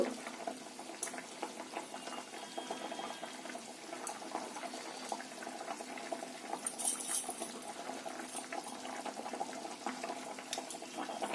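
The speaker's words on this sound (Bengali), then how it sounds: "ঝোল ফুটে গেছে" A pot of gravy for a banana-flower fritter curry boils on the stove, giving a soft, continuous bubbling and simmering hiss that stays faint and even, with no voices.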